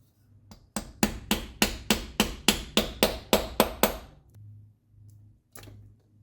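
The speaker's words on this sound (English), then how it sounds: "to drive the new one in, I use a 19mm socket taped to the seal and drive it up into place" A hammer strikes a 19mm socket taped to a new automatic transmission seal on a C5 Corvette, driving it into place: about eleven sharp, evenly spaced metallic blows, close and loud, with a few lighter taps before and after.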